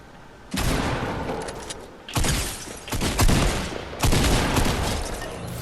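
Bursts of gunfire in the video game Fortnite: three or four loud, dense volleys of rapid shots, each lasting about a second or more, separated by brief gaps, with no talking.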